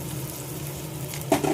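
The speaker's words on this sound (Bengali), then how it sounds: "লাল করে ভেজে নেবো একটু।" Onion and spice paste frying in a pan for a Bengali home-cooked dish: a steady close sizzle throughout, joined near the end by a brief clink and stirring scrape.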